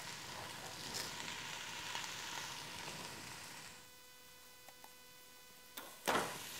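Chopped vegetables and translucent onions sizzle in a soup pot for a minestrone base, a steady broadband frying hiss that drops away to a quiet hum before a couple of faint ticks and a closing clatter.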